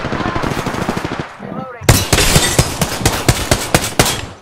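P2020 pistol gunfire in the Apex Legends video game, a rapid run of sharp, close, evenly spaced shots that resume after a brief lull, with faint talk underneath.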